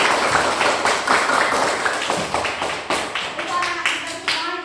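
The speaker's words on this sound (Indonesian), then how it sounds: "Tepuk tangan dulu untuk itu." Children in a classroom clap their hands in quick, loud, rhythmic bursts of applause together, with some faint voices mixed in.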